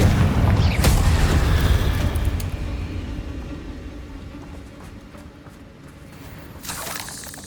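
Spell blasts of Bombarda and Incendio in the video game Hogwarts Legacy: a heavy booming burst up front rolling into a long fading rumble, with a second sharp flare near the end.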